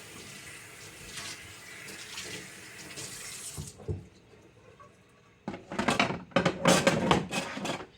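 Kitchen tap running water during hand washing, a steady stream that cuts off midway, followed by louder splashing and clattering bursts near a sink.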